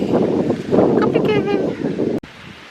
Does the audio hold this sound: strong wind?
yes